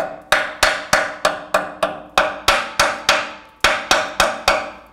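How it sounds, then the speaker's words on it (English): Steady rhythmic metal strikes of a hammer and chisel knocking rust off a rusted exhaust flange on a 2008-2010 Ford F-450 Super Duty, about fourteen sharp close blows ringing out with no talk. "What I'm going to do is start by chiseling away the rust that has built up here."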